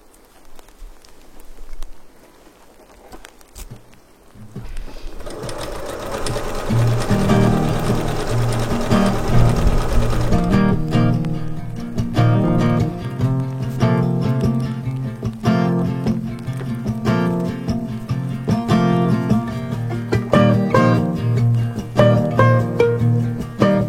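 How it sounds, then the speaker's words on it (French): A sewing machine stitching around the waistband of a garment starts after a quiet moment and runs steadily with a fast, even stitching patter, pausing briefly midway before resuming, close and clear with no speech. "Je vais piquer toute la taille sur tout le pourtour"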